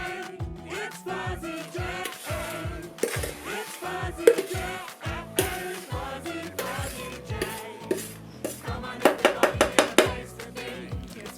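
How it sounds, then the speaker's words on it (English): Utensil stirring cookie dough in a mixing bowl during home baking, with irregular scraping and clinking strokes that speed into a quick run of taps near the end, fairly close. "Make sure to give this a good mix."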